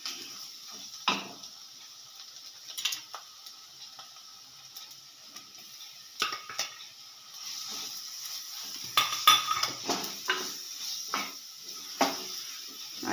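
Ginger-garlic paste being stirred into toasted chili, coriander and turmeric powders in a pan for a Kerala-style chicken curry, with intermittent scraping and clinking of the spoon against the pan over a faint sizzle.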